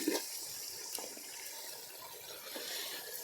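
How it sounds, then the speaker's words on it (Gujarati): Water pours steadily into a pot in a village kitchen, a faint, continuous splashing trickle with a few soft bumps, heard alone without speech. "થોડુંક પાણી નાખવું પડશે."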